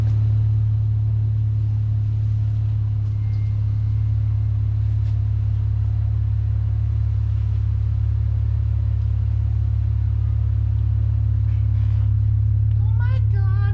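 A 4th gen car's engine idles after a manifold repair, a steady low rumble that holds loud and even throughout, with faint voices near the end.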